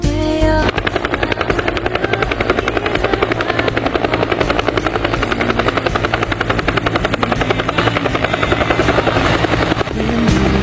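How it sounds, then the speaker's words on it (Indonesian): A helicopter's rotor thumps in a steady rapid pulse, loud and close, with a constant engine whine running through it from start to finish. "Segera kirimkan helikopter ke titik penjemputan."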